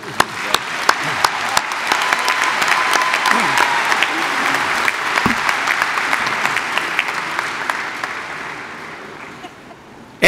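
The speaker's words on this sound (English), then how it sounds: "a well-deserved round of applause for our graduates" Audience applause for graduates at a spring university undergraduate commencement ceremony, a broad wash of clapping with a few sharp nearby claps standing out, gradually fading toward the end.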